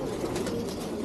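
Racing pigeons cooing inside a crowded loft, a steady, close murmur of many overlapping coos with faint background voices mixed in.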